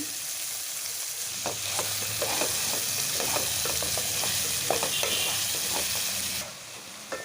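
Tomatoes being stirred into a sizzling fish curry in a pan, with a constant frying hiss and a run of spoon scrapes and clinks up close, quieting near the end.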